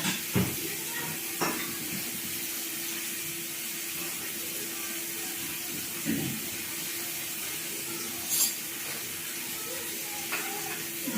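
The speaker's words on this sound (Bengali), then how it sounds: "আমটা ভাজা হচ্ছে" Continuous sizzling of green mango frying in oil, steady and close, with a few clicks and stirring knocks now and then.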